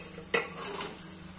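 Boiled chickpeas tipped into a pan of fried masala land with one sharp metallic clank against the pan, followed by a softer clink and a faint rattle as the mixture settles, heard close and without talk.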